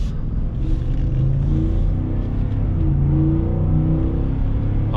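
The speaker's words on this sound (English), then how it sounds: "Oh yeah, that V8 sounds fantastic" A 2021 Ford F-150 XLT V8 accelerating from a stop, its deep engine rumble loud and steady from inside the cab as the revs climb and shift.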